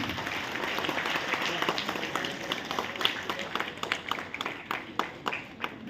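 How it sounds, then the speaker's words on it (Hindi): Applause from the audience at a chess tournament in Lake City, a dense patter of clapping that runs steadily throughout and breaks into sharper, more separate claps toward the end. "अब मैं जोरदार तालियां।"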